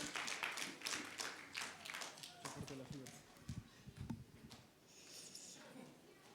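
A church congregation claps during a Wednesday evening service, a burst of quick, uneven claps that builds and then thins out. Low murmuring voices mix in, and a few scattered claps linger at the end.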